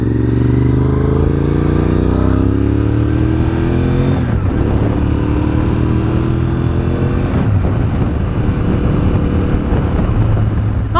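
A Honda RC51 V-twin sport motorcycle being ridden on a road, its engine loud and close throughout with rising and falling revs as it shifts through gears, trucks audible in surrounding traffic.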